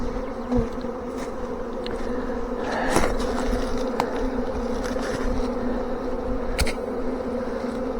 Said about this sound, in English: Get all these bees.